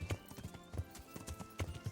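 A black stallion's hooves clip-clop in a quick, steady rhythm in the medieval game Kingdom Come: Deliverance, with repeated close hoofbeats and no voices.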